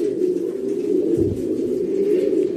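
Breeding pigeons in a loft in Sagua la Grande coo steadily and close by in low, throaty, overlapping murmurs, with no one speaking.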